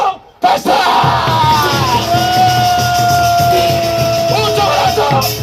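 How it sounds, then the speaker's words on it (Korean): A large crowd at a protest rally in Hwajeong Station plaza, Goyang, roars and shouts together in a sustained, loud cheer lasting several seconds, with some higher whoops rising above the mass of voices. "5초간 함성 발사!"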